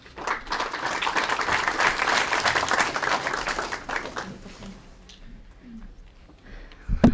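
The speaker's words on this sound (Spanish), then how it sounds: "La recibimos nuevamente con un cálido aplauso." A Senate audience breaks into warm, steady applause, dense clapping that holds for about four seconds before thinning into scattered claps and room noise, with no talk over it.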